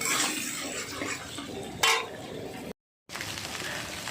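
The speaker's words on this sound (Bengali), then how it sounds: "এবার ডিমটাকে ভালো করে নাড়াচাড়া করে নিচ্ছি" Egg being stirred in a kadai over chopped onions while cooking fenugreek-leaf bhaji, close scraping and clinking of a utensil against the pan, with a brief louder scrape and a short silent gap.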